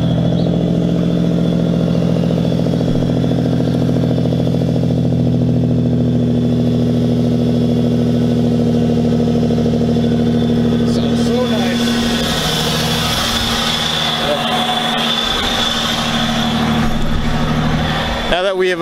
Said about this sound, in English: So we'll go ahead and do a little quick cold start